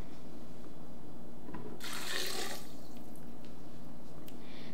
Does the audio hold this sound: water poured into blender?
yes